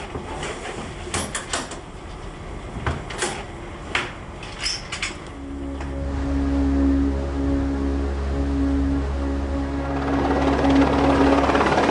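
A helicopter during sea rescue operations sets up a loud, steady rotor and turbine drone that swells in after a few scattered clicks and knocks, then holds close and continuous to the end.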